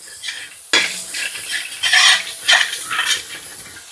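Chicken and masala spices stirred in a pot, a spoon scraping and clinking against the metal in several close, loud strokes over a soft sizzle, with no talk.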